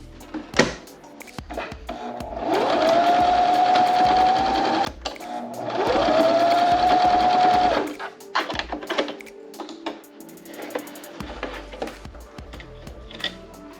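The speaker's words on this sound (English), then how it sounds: "So just push it to the back and start sewing again." A sewing machine whirs in two steady runs of a few seconds each, with clicks and handling noises before, between and after.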